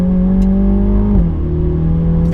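A 2021 Mini JCW GP being driven, its engine and exhaust giving a loud, steady drone whose pitch drops sharply midway as if through a gear change, then holds steady again, with no talking.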